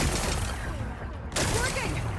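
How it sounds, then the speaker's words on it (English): Rock-blasting explosions in the Horizon Forbidden West video game, a dense burst of booming blasts that briefly drops out and then resumes, loud and continuous under a busy game soundscape. "Gotta blast away some rocks, so I can expose the power cell."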